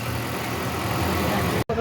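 A Toyota Corolla engine idles steadily and fairly loud after a misfire repair, a smooth continuous rumble that cuts out abruptly for a moment near the end before resuming.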